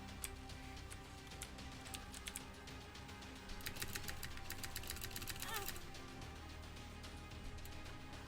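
Rapid keyboard-style clicks from The Binding of Isaac stream by in a dense, quiet ticking pattern that swells into a faster flurry midway, with faint background tones.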